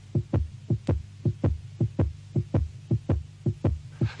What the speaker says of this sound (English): you can hear they sound very much like the heartbeat, the heart rate of a person who's rather excited